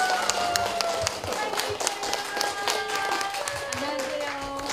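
Scattered clapping from a small Parents' Day audience at a day-care center welcoming a singer, uneven and sparse, mixed with tonal background music and nearby talking voices.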